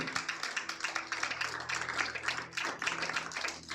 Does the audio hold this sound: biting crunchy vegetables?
no